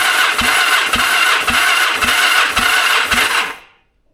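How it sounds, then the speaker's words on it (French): The starter motor of a 1978 Yamaha XS1100 motorcycle cranks loudly and close, with a rhythmic chugging of about six compression pulses, then cuts off abruptly without the engine firing. "Au moins ça va nous permettre de tester le démarreur déjà."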